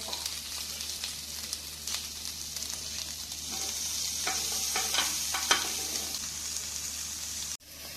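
A flipped beef burger patty fries with butter in a pan, giving a steady close sizzle with crackling pops throughout and a few scrapes, ending in a brief knock.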